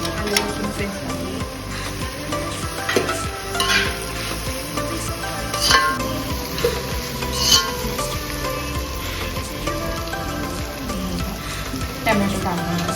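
Chopped onion frying with ginger-garlic paste in a pan for pav bhaji, a steady close sizzle with intermittent scrapes and knocks of a spatula stirring throughout.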